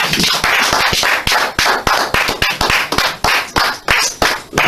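A church congregation applauding together, a dense burst of sharp overlapping claps in a steady rhythmic pattern, loud and close, with no talking.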